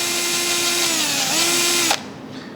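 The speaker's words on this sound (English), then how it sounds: "I'm not going to use the hand Allen key, I'm going to use a drill" A power drill driving bolts into a circular table base whirs loudly and steadily for about two seconds, its pitch dipping briefly under load, then cuts off abruptly.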